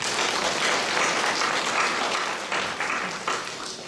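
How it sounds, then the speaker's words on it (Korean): A church congregation claps together in thanks, giving a sustained, even round of applause that fills the room, with no talk over it. "우리 감사의 박수를 한번 하겠습니다"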